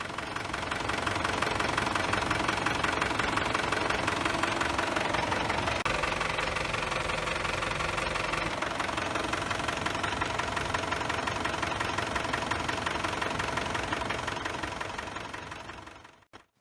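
A car engine idles with a steady, rattling hum during a radiator flush, running continuously, then cuts off abruptly at the end.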